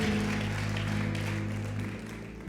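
Steady audience applause in a French-speaking church service, with sustained keyboard or organ tones underneath that fade toward the end.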